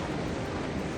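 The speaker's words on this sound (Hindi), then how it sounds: "जो हवा चल रही है ना, बर्फीली हवा," Icy wind blows strongly along the Gangotri to Gaumukh trek in the Himalayan mountains, a dense steady broadband rush that buffets the microphone, loud and with no talk, over one second.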